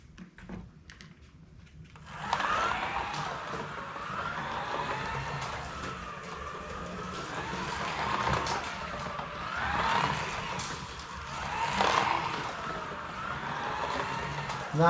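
A small Policar slot car whirs steadily around a track, a fast, rattly buzz that swells and fades as it passes, with a faint rhythmic pitter-patter from the track section joints.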